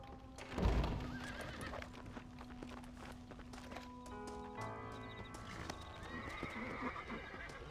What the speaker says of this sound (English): Is there a problem with your horse?